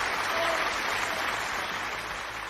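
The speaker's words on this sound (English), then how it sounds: "Let's give him a round of applause." Steady audience applause, a dense continuous wash of clapping throughout, with faint voices beneath.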